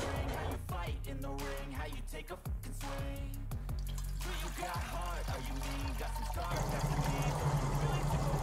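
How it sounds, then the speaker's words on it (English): Water pours and trickles in a steady stream into a damaged Vauxhall/Opel Corsa VXR, dripping and splashing out continuously over a droning background hum with scattered tonal sounds. "I just want to put some water in here and see whether I can see where it drips out"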